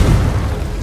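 A Confringo fire spell blasts off in Hogwarts Legacy with a loud, deep, rumbling boom that fills the whole brief moment without fading.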